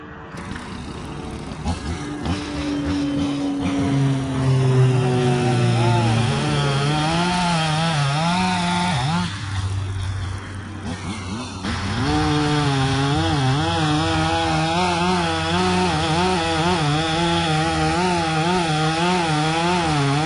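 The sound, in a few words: Echo chainsaw running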